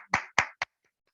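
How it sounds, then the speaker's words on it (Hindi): Audience clapping at a Hindi-language income-plan presentation: three sharp, loud claps in quick succession, the last shortest, then silence. "तो मैं चाहूंगा इनकम पार्ट के लिए एक जोरदार ताली"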